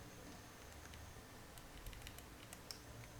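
Light computer keyboard presses in Excel, a few soft, close clicks and taps at a low level against quiet background hiss.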